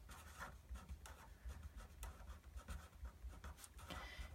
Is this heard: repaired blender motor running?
no